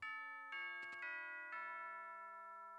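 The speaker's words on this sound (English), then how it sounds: "Oh, that's the school bell." A chiming school bell in the Pokémon Ultra Sun video game rings out as a sequence of four clear tonal notes that sustain and overlap, heard alone without talk.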